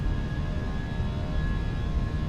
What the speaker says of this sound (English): listen to those engines spool up